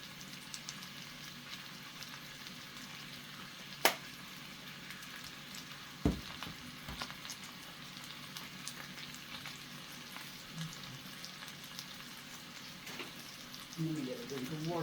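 Ground beef sizzling and frying in a pan, a soft continuous crackle with occasional sharp clicks of a utensil, fairly quiet, with a louder stir near the end.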